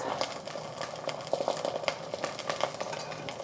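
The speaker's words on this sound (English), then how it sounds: "The sizzling is just from the heat of the pot." Star anise and sugar sizzle in a hot soup pot with the stove off, a soft crackling hiss broken by faint irregular pops and light stirring clicks.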